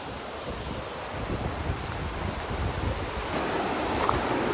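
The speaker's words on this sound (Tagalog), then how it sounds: "Lakas ng agos oh." A strong river current rushes steadily and close, a dense broadband roar of flowing water mixed with some wind buffeting on the microphone. No voices are heard.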